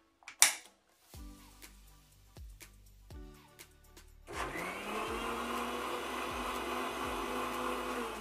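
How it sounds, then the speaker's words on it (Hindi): Mixer grinder blending a strawberry milkshake with milk, starting with a few short pulses and clunks, then a steady loud whirring motor run continuing to the end. "अब इसको दोबारा से मिक्स कर लेंगे। मिक्सी को एक बार फिर चलाएंगे।"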